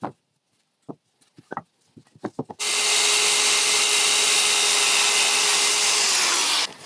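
A few sharp knocks and taps, then a circular saw whines up loudly and cuts steadily through wood for several seconds before winding down.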